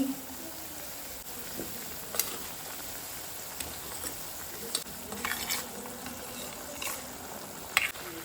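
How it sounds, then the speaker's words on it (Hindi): Jaggery being stirred into cooked ambade in a pan, a soft scraping and bubbling with occasional spoon clinks, fairly quiet and steady with no talking. "इसको मिक्स करते हैं और जैगरी को जो है ना मेल्ट होने के लिए छोड़ देंगे"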